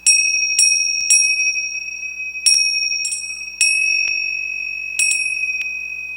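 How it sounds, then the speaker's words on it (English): Bright bicycle-style bell struck in a loose series of single dings, each ringing out cleanly and decaying over a quiet background. "go on and hit that bell. I'm just saying, let it ring for you one time."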